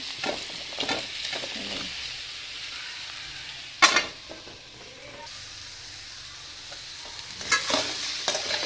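Chopped tender ash gourd sautéing with garam masala in a pan, a soft hiss of frying broken by scraping stirs, with one louder scrape near the middle.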